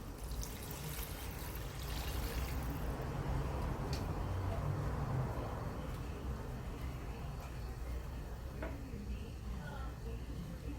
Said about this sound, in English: So here we're gonna add some water to it.